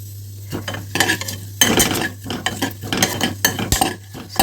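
Bay leaf, cinnamon, pepper and cloves frying in a pan, with a light sizzle under repeated scraping and clinking of a spoon against the metal, loud and close, with a steady low hum behind.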